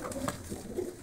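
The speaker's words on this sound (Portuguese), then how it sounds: "Eu não gosto de ver pombo brigar." Pigeons coo in low, throaty bursts at close range while fighting over territory, with a few quick overlapping calls and soft rustling.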